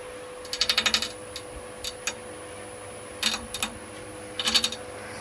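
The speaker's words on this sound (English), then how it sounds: "advance the cutting tip into the ball. We're going at about 728 RPM right now." A wood lathe spins at about 728 RPM while a cutting tip bites into a glued-up wooden soccer-ball sphere, giving intermittent bursts of rattling, ticking chatter over a steady motor hum, close and moderately loud, with no talk.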